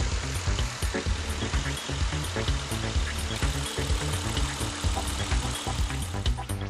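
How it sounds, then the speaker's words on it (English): A car engine idles steadily during an oil leak check on its major assemblies, giving a low, even mechanical hum with a faint watery trickle over it. "let the engine run for a total of about 5 minutes"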